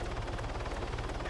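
A helicopter in a combat video game gives a fast, steady rotor chop, a rapid regular thumping pulse throughout the short moment, fairly faint and without talking.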